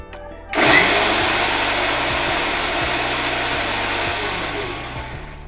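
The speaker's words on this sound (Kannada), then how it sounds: "ಅಷ್ಟರಲ್ಲಿ ನಾನು ಮಿಕ್ಸಿ ಮಾಡ್ಕೊಂಡ್ಬಿಡ್ತೀನಿ ಇದನ್ನು. ಟೊಮೆಟೊ, ಶುಂಠಿ, ಬೆಳ್ಳುಳ್ಳಿ ಪೇಸ್ಟ್ ಮಾಡ್ಕೊಂಡ್ಬಿಟ್ರೆ" A kitchen mixer grinder blends tomato, ginger and garlic into a paste, starting abruptly after a brief quiet moment and then running as a loud, steady, close whirring roar for about five seconds.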